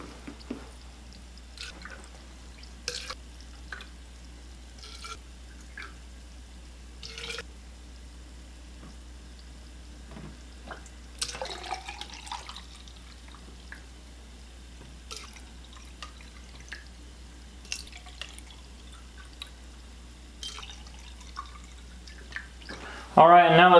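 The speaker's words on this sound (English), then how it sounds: "Let's go ahead and fill these up with some water." Water is poured into PEM hydrogen generator bottles in scattered, quiet splashes and trickles separated by pauses against a low background hum, with a louder clatter at the very end.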